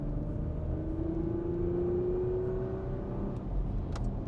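A 2024 Porsche Macan S with the Sport Chrono package accelerates from 50 onto a highway, its engine note rising steadily and loud over constant road and wind rumble, heard from inside the cabin.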